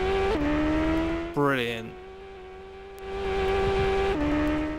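Engine of a vehicle in the 2006 PS2 game Captain Scarlet: a steady, droning motor hum that briefly revs up and sweeps in pitch, then settles back into a constant whine, with a short spoken word.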